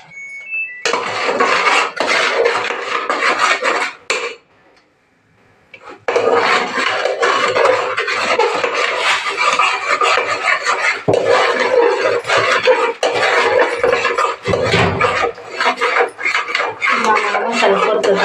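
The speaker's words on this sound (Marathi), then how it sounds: "मसाला परतत आहे. तर परतून द्या." Ground masala being sautéed in a pan for a mutton curry: close, steady scraping and clattering of a spatula against metal, with a brief pause near the middle before the rhythmic stirring resumes.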